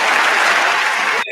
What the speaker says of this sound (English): Yeah, you hear the applause?